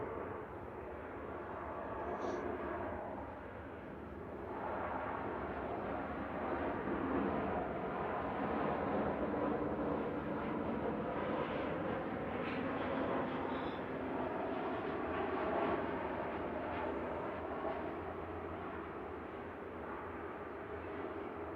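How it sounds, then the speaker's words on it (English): A Ryanair Boeing 737 MAX 8-200 arrives at Manchester Airport, giving a continuous, fairly faint rumble of jet engines that rises gently in the middle and then eases, with no talk over it. "Ryanair from Tenerife South coming in now,"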